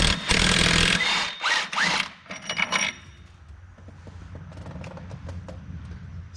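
A 1/2-inch Super Mac impact wrench fitted with an 18 socket removes a bolt on a RZR in a few loud, rattling bursts, followed by quieter clinks and handling noises.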